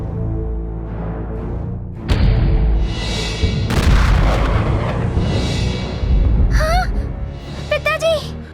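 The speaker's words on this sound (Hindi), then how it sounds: "ये कैसा धमाका?" A sudden cartoon explosion booms out in a Chhota Bheem animated scene, followed by rumbling debris and whooshing effects, with voices gasping and talking around it.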